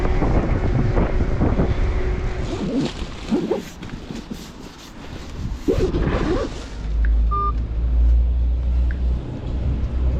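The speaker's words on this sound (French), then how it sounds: "Rafale de vent jusqu'à 36 km/h." Strong wind gusting up to 36 km/h buffets the microphone during a delivery drive, a broad rumbling roar that swells and eases through the stretch, with a low steady engine drone underneath.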